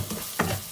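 Cumin, dried coriander, red chilli, salt, garam masala and black pepper powder hit a hot pan for a lobia rajma masala, giving a brief steady sizzle with a soft stirring scrape, close and alone.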